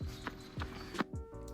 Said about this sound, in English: This footstep sound effect, let me mute this.